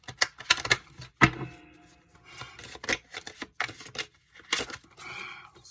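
Tarot cards are shuffled by hand in quick irregular bursts of crisp flicks and soft slaps, close and fairly quiet, with brief pauses between handfuls and no talking.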